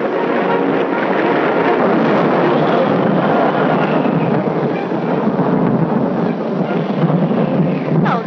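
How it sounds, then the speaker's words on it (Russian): Heavy downpour with thunder in a wartime home-front film, a loud, dense, unbroken roar of rain that stays steady throughout with no clear separate thunderclaps. "Надо же, ливень какой."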